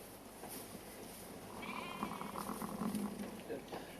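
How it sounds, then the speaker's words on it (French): Ewe and newborn lamb on a farm, with a few faint bleats over a low barn background, partly under quiet speech. "Voilà, une brebis et un agneau en bonne santé qui va téter."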